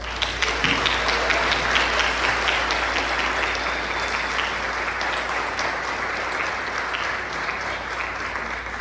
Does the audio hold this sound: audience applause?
yes